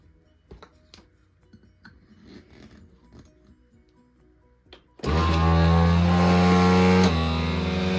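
A vacuum sealer runs on a food storage bag, a steady loud motor drone starting abruptly after several seconds of quiet handling clicks and rustles, with a brief click partway through.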